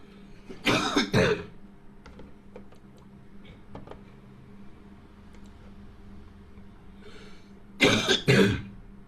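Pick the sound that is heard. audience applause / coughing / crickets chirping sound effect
coughing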